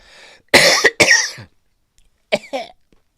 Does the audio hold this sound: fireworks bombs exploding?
no